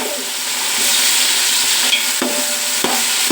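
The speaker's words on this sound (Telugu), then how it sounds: "తిప్పుకోవాలి లాగా బాగా వేగనివ్వాలి" Chicken for biryani stirred and frying in a pan, a steady bright sizzle with occasional sharp scrapes of the spoon against the metal, close and continuous with no talking.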